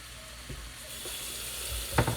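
Tap water runs steadily in a kitchen sink as raw chicken is rinsed, with a low, continuous splashing wash and a few brief clunks and knocks against the basin, close and fairly quiet throughout.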